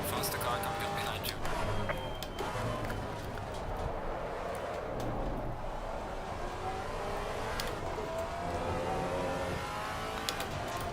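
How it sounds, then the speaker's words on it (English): Racing car engines in Assetto Corsa Competizione at Brands Hatch, a faster car closing from behind on a Maserati MC4 GT4 during the final lap, a steady loud engine drone throughout with a voice talking over it. "Faster car coming up behind you."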